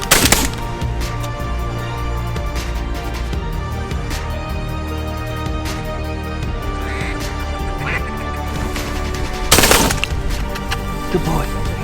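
Duck hunting in the field, with sharp shotgun blasts fired at incoming ducks: a burst of shots near the start and another loud pair around the tenth second, set over steady outdoor noise and background talk.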